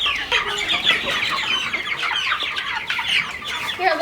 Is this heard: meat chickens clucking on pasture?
yes